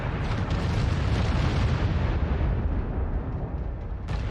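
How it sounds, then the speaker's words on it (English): Missile explosions in MechWarrior 5 tear down a wall, heard as a sustained, loud rumbling roar of blasts and crumbling debris that tapers slightly before a final sharp burst. "Green just destroyed that wall with his missiles."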